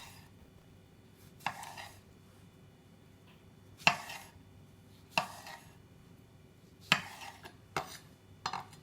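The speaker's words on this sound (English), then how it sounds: "Then cut the tomato into segments." A knife cuts a halved, cored tomato into segments on a board, giving about six sharp, separate chops spaced a second or more apart, close and quiet between strikes, with no talk.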